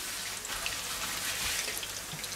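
Fleischpflanzerl meat patties sizzle in a hot pan, a steady, even crackle with fine popping spread across the whole moment, fairly close and without any talk.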